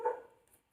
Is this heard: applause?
no